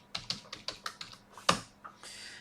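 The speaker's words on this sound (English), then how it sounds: "let's type the password" A password typed on a computer keyboard: about ten quick, crisp key clicks close by in an uneven rhythm, with one harder tap near the middle and no voices.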